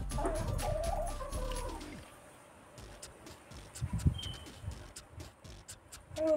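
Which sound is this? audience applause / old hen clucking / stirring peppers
old hen clucking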